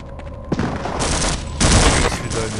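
Grenade blasts and gunfire from the video game Half-Life, a dense, loud barrage of shots with heavier booms near the start and the middle, continuous throughout.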